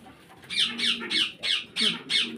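Fancy pigeons calling, six evenly spaced squawking bursts close by, with no other sounds in between.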